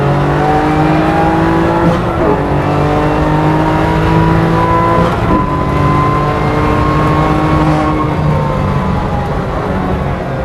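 A 510bhp BMW M2 Competition with a 3-litre twin-turbo engine drives hard on a race track, its loud, steady engine drone rising and falling through the gears close up without a break.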